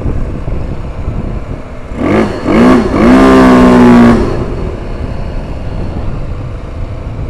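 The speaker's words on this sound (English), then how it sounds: "So, rev bombing." A car engine revved hard inside a tunnel: two quick blips followed by a longer, rising rev that echoes loudly, then falls back to a low idle rumble with no talking.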